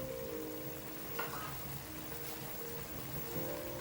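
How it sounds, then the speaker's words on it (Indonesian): Thinly sliced bilimbi (belimbing wuluh) frying in a pan, giving a steady, quiet sizzle with a faint clink partway through. "Lalu masukkan belimbing ulu yang sudah dipotong tipis-tipis"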